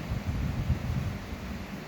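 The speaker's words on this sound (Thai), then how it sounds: "ลมแรงนะคะเนี่ย เนี่ย เห็นไหมคะลมแรงนะคะ" Strong wind blows outdoors, a continuous low buffeting roar with gusty swells that batter the microphone throughout.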